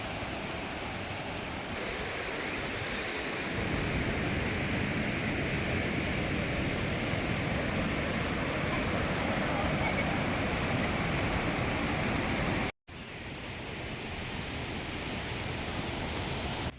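Steady, broadband roar of a waterfall at Meenpidipara runs continuously at moderate volume, a dense rushing wash of water without breaks, with only a momentary dropout near the end.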